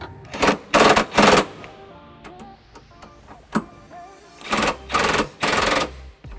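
A 3/4 socket on an extension snugs up trailer hitch bolts on a 2005 Pontiac Aztek, heard as several short, loud bursts of rapid ratcheting clatter separated by brief pauses and light clinks.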